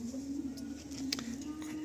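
Pigeons in a loft coo softly and continuously, a steady low murmur under faint background rustling, with no voices.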